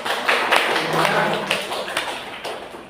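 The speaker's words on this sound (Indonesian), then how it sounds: "Jadi tepuk tangan untuk kita semua." Audience of teachers clapping hands at a classroom-culture training session, a dense round of applause with some taps standing out, lasting about three seconds at moderate loudness.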